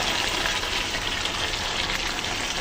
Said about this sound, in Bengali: এখন তেলের জন্য জল দিয়ে দেবো